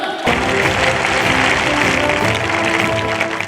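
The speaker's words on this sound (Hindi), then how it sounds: "जोरदार तालियां" A large gathering at a school event honouring a student who became an NDA officer breaks into loud, dense applause that starts abruptly and holds steady throughout, with a faint murmur of voices underneath.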